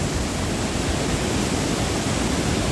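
Water pours over the waterfall at New Athos in Abkhazia, a loud, steady, close rushing roar with no voices over it.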